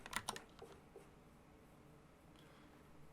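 Quick burst of computer keyboard typing close to the microphone in the first half second, a few lighter clicks after, then quiet room tone.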